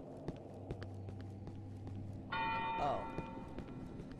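A church bell in the Cry of Fear horror game sounds once, a single clear tolling strike that rings out and decays over soft footsteps, with a brief spoken exclamation.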